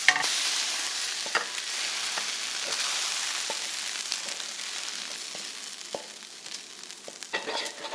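Bacon kimchi fried rice with garlicky scallions is stirred in a hot frying pan, giving a continuous loud sizzle broken by scraping strokes of a utensil against the pan, with no talking.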